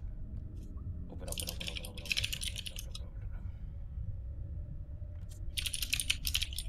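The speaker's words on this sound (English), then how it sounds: "Is that Mimi's typing?" Quick clicks of computer keyboard typing come in two short bursts, one near the start and another near the end, faint and indoors over a low steady hum.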